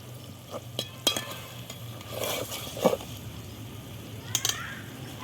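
Potatoes for aloo dum sizzle softly in a pan with salt, sugar and chopped coriander while a utensil stirs and scrapes in a few short strokes, fairly quiet and close.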